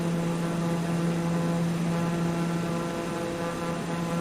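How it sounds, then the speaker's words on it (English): A small plane's engine drones steadily in flight, a loud, even propeller hum with strong sustained tones from start to end and no talk over it. "It doesn't have that throaty sound that I would like to have in a plane."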